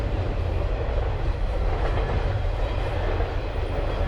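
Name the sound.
train passing near a train yard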